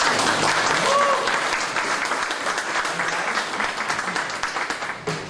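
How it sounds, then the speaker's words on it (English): An audience applauds at a WordPress conference, a broad continuous clapping from a large room that stays strong and then thins toward the end, with a faint murmur of voices beneath. "So, please give Vito a big round of applause."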